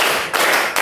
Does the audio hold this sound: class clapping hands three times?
yes